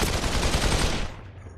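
Gunfire in a battle royale video game, a loud close burst of rapid automatic shots lasting about a second, then fading into quiet.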